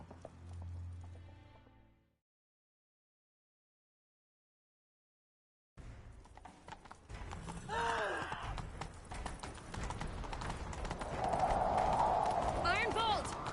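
Rapid hoofbeats of a galloping horse in The Witcher 3 under voices and game sound effects, following a short burst of speech and a pause of silence.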